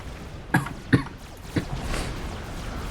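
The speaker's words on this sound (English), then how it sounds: "Sorry for the coughing, I'm a bit sick." A sick person coughs three times in short, sharp bursts, close and fairly loud, followed by faint rasping breath, with quiet background hum.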